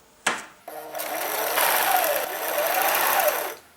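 An overlock serger sewing machine whirs at a steady, fairly loud speed for about three seconds after a short click and a brief start. There is no talk.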